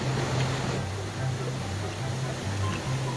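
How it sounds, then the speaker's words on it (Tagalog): Steady, broad water roar from Magkawas Falls in Lanuza, Surigao del Sur, heard up close and continuous, with a low wavering hum underneath and a person talking over it. "nasa harap ko yung ano, falls."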